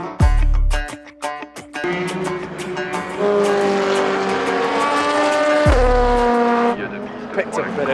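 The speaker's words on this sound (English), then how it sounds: "watching some cars go around" Race cars circulate at the Le Mans circuit, with engine notes rising and falling as cars pass close by, some tire noise and crowd voices mixed in over a steady loud background.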